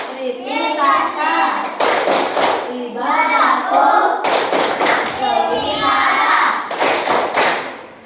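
Schoolchildren at a Buddhist school perform a rhythmic clapping chant, sharp unison claps and thumps in a steady pattern alternating with loud group chanting, close and energetic throughout.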